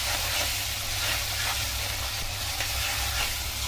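Potatoes frying with ginger-garlic paste in a pan for egg potato curry, stirred, give a steady, dense close sizzle and hiss that runs unbroken throughout with no voices.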